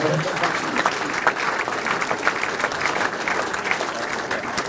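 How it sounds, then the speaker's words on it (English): Guests at a rugby league club's celebration dinner break into sustained applause, a full, steady round of clapping from a large room. "I thought that might have got a round of applause"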